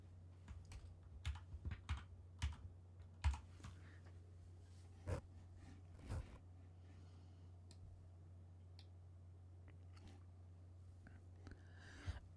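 Typing on a computer keyboard while entering a file name, a few short bursts of soft, close key clicks in the first few seconds, then mostly a quiet steady hum with an occasional isolated tap.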